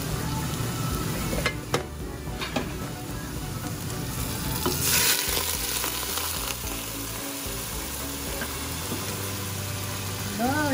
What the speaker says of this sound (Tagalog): Ngayon, ilalagay na po natin yung ating oxtail